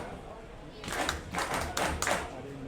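Baseball crowd in the stands clapping in rhythmic bursts to rally their pitcher with the bases loaded, the claps fairly distant and modest in volume over a low ambient murmur.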